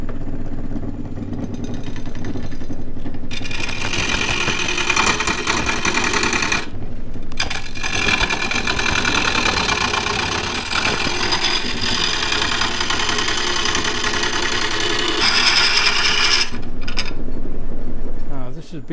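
A small wood lathe turning a large pawn gives a steady, loud mechanical whine almost continuously, with a couple of brief drops, then resumes at a high, even pitch after being sped up.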